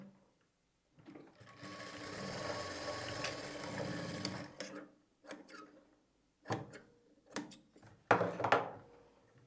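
A sewing machine stitches the piping joint on a blouse, running in one long whirring burst and then in several short stop-start bursts, close and clear.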